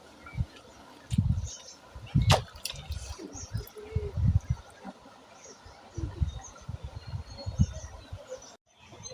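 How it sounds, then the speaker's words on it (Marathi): Water bubbling up from a hot spring in a river in Konkan, soft irregular gurgles and splashes close by, with occasional drips and faint birds in the background. "इथे जे उकळ येते पाण्याला."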